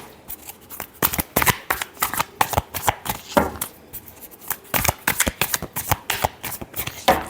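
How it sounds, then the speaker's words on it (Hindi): Tarot cards are shuffled by hand, close up, in a long run of crisp, flapping riffles and taps with short pauses between bursts. "last shuffle"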